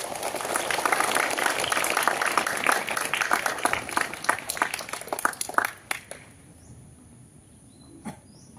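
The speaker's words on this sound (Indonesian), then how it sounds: "Tepuk tangan." An audience at a school event with local police claps in a dense, steady round of applause that stops abruptly, leaving a quiet room with a few faint sounds.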